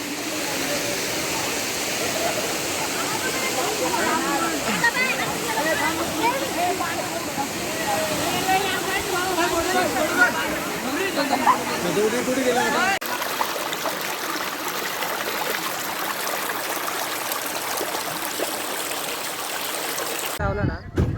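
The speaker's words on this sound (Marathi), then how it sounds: "आणि असा हा धबधब्याचा व्ह्यू आहे." A waterfall at Shivneri fort, a steady loud roar of falling water that continues throughout, with an abrupt shift in tone partway and a brief knock at the end.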